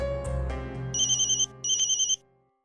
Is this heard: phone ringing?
yes